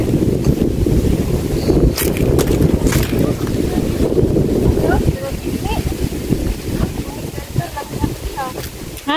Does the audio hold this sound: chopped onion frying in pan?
no